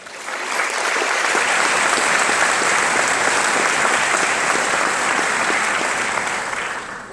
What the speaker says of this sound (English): I ask that you give yourselves a round of applause